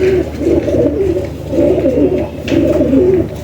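Domestic pigeons coo close by in soft, rolling, repeated phrases, several in a row in an even rhythm, with no talk over them.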